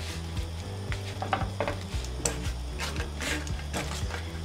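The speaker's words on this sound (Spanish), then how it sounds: "Así vamos a dorar todos nuestros chiles." Dried chiles toasting in a hot pan, stirred and turned constantly, with a close sizzle, repeated scraping and light clinks of a utensil against the pan, running without a pause.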